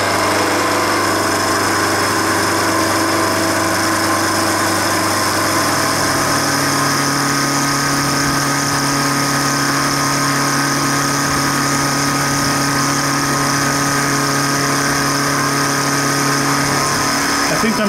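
A metal lathe takes an eighth-inch roughing cut with a roughing finisher end mill, giving a loud, steady motor drone with a sustained hum throughout and the tone shifting slightly partway as the cutter engages.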